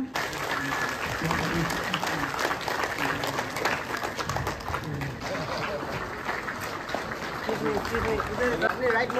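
Sustained applause from an audience at a cultural heritage workshop, dense steady clapping throughout at a fairly loud level, with crowd murmur mixed in.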